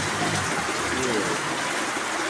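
Heavy rain pours down in a steady, dense hiss, close and continuous throughout, with no other clear sound on top.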